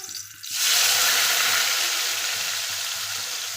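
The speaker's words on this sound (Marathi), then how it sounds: "तर आता इथे तेल गरम झालं आहे, त्याच्यामध्ये आपण टाकणार आहोत कांदा आणि टमाटा." Onion and tomato tossed into hot oil, where cumin and mustard seeds are already frying, set off a sudden loud, steady sizzle after a brief quiet start, fading only slightly as it continues.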